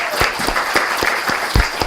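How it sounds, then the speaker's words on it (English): Audience applause following a tribute to a Miami-Dade County Public Schools staff member's years of service, with steady clapping punctuated by a few louder, distinct claps near the microphone. "How about a big round of applause for that?"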